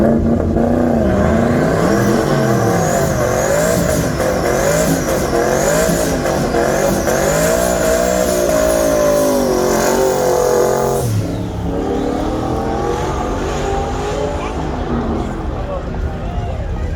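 A twin-turbo car revving loudly and accelerating hard through repeated rising and falling engine pulls, with a sharp shift in tone near the end. Voices are heard beneath the roar.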